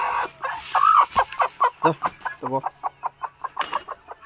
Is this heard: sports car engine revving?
no